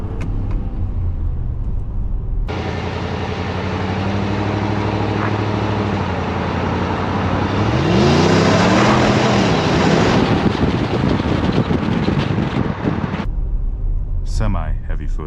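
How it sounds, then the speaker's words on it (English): A Ram 1500 Classic pickup truck's engine revs and accelerates, a loud low rumble that swells into a sweeping rising roar mid-way, with wind noise over it, then cuts off abruptly near the end. "you like to hear what the engine may sound like"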